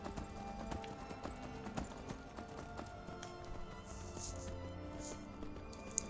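Horse hooves clip-clopping along in Skyrim, a steady rhythmic trot of hoofbeats at moderate level with faint game ambience behind it.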